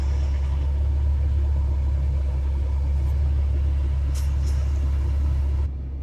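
Car air conditioner turned up to full and running inside the vehicle, a steady low rumble and airy blower hiss that holds for several seconds, then drops slightly near the end.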